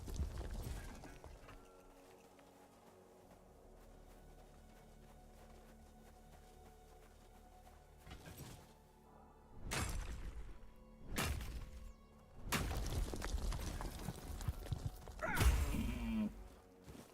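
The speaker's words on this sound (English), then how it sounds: "Oh no, a horse!" Horse in the Tainted Grail: Fall of Avalon video game, quiet ambient music giving way to loud hoof clatter, thuds and a crashing burst near the end.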